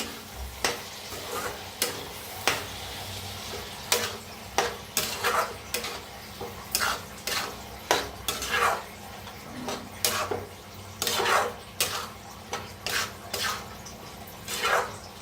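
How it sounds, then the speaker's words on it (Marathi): Masoor dal with salt stirred in a pot, a run of sharp repeated spoon clinks and scrapes against the metal at an uneven rhythm, close up with faint sizzle beneath and no voices. "आता डाळीला मिक्स करून घेऊया।"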